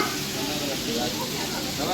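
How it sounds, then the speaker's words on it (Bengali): Padma hilsa fish pieces frying in hot oil at a riverside eatery at Mawa ghat, a loud dense continuous sizzle close by throughout. "আমিও কিন্তু ইলিশ মাছ ভেজে নিচ্ছি আপনারা দেখতেই পাচ্ছেন"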